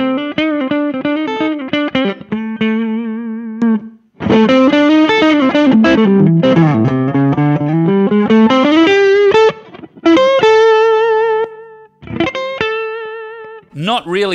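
Electric guitar on the neck pickup driven by a Walrus Audio Messner low-gain overdrive pedal, warm lightly distorted phrases with string bends and vibrato, held notes broken by short pauses, played loud and alone.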